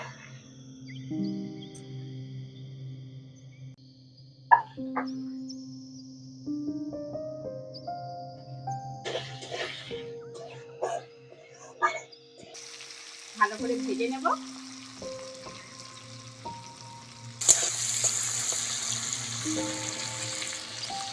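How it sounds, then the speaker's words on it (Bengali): Garlic, tomato and green chilli frying in oil for a fish curry, a soft close sizzle with stirring scrapes that gets brighter and louder toward the end, under faint background sounds. "এইবার আমি ওই তেলের মধ্যে রসুনটা দিয়ে দেব টমেটো কাঁচা লঙ্কা"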